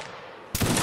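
Musket volley fire from a line of infantry in the Mount and Blade Napoleonic wars game: a quiet moment, then a sudden loud ragged crash of many shots going off together.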